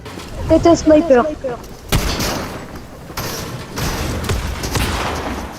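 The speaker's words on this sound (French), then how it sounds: "Il m'a mis une balle de snipe" Sharp broadband blasts from a sniper rifle in a video game, several loud cracks with trailing booms spaced about a second apart, following a stretch of excited talk by players.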